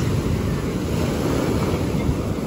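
A stormy sea churns and crashes against the shore at Volkonka on the Black Sea coast, a loud, continuous roar of surf mixed with gusting wind buffeting the microphone.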